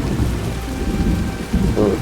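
Rain and thunder in the survival video game Soulmask, a heavy constant downpour under low rumbling swells of thunder that rise and fall, loud and close with no talking.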